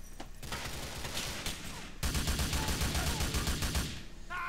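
Gunfire from a gun in the GTA IV video game: dense, loud bursts of rapid shots, pausing briefly, then a second heavier sustained volley of repeated shots with echoing crackle.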